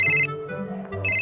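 A telephone ringtone chimes in two bright electronic bursts, one at the start and one at the end, with a softer murmuring gap between them. It is fairly close and clear.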